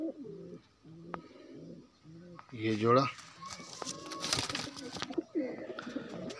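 Pigeons coo in a rooftop loft of pigeons kept in pairs, soft repeated rumbling coos close by, with someone talking over and between them.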